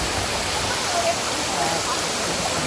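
Ng Tung Chai falls on Tai Mo Shan in Hong Kong give a loud, steady broadband rush of falling water, close and unbroken, with a voice faintly present beneath the roar.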